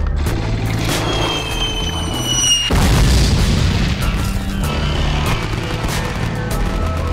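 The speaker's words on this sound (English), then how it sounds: "Gunfire we can live with, but mortar rounds, we're out of here." Sharp gunshots crack over a rumbling enduro motorcycle engine, then a heavy mortar round explosion hits and leaves a long, roaring rumble behind it.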